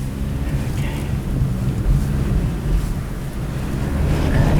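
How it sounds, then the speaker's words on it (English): A strong 75-mile-an-hour wind gust roars steadily and loudly, a continuous dense rumble buffeting the microphone throughout with no letup. "75-mile-an-hour wind gust. That is insane."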